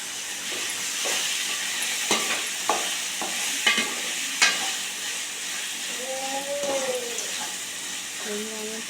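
Onion and tomato sauté in a pan for mutton gravy. A steady close sizzle runs throughout, punctuated by sharp clinks and scrapes of a spatula stirring against the metal.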